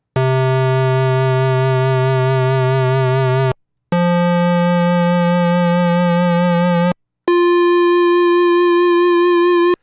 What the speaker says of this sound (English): So you can hear how there's no vibrato at the beginning there, but then it sort of comes in